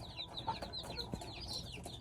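A broody white Heera Aseel hen sitting on eggs gives low, repeated clucks close by, set among a busy layer of many chirping birds in the background.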